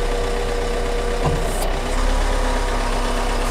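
A Nissan Navara truck's diesel engine runs steadily at a low, constant drone while extending a 1-ton UNIC crane boom, with a brief clunk partway through and a slight rise in engine noise near the end.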